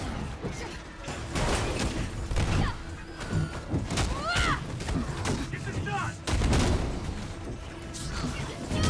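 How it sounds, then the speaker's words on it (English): Enemy gunfire rattles in Marvel's Avengers, with repeated sharp shots and bursts amid mechanical clanks, whooshes and crashes of a busy battle, loud and continuous throughout. "they are shooting at me"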